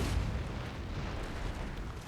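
Battle sounds from the Empire: Total War siege of Delhi, a dense, steady roar of gunfire and artillery blending into continuous rumbling booms, no voices.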